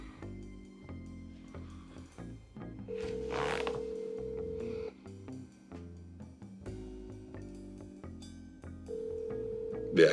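Ringback tone of a phone call to Zac Efron on an iPhone, repeating long rings with pauses between them, clear and fairly quiet, with no talking.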